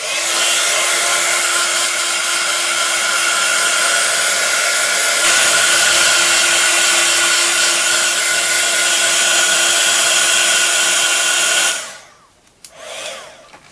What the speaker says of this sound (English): we're just going to quickly just dry that with a heat tool.